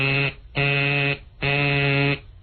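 A person mimics a basketball substitution buzzer with their mouth, making three sustained, loud buzzing tones with brief gaps between them and no other voices.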